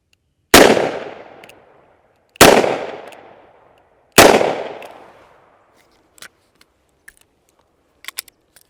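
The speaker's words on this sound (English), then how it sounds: "And then we'll hit it 3 times with the 22 Magnum" Three loud .22 Magnum shots from a 3-inch barrel, spaced about two seconds apart, each sharp crack followed by a ringing decay, with a few faint clicks afterward.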